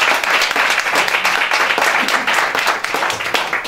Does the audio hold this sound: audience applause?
yes